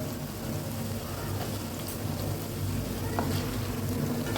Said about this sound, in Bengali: এবার ভেজে রাখা আলুগুলোকে আমি এতে ছেড়ে দিলাম।